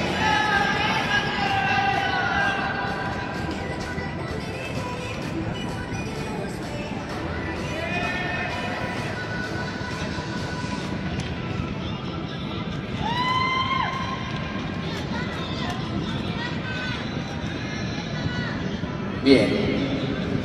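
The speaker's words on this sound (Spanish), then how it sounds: "Fuerte el aplauso para ellas." Crowd cheering and applauding at a Miss Bikini Fitness Junior competition, with whoops and shouts over steady clapping. An announcer talks over the crowd noise.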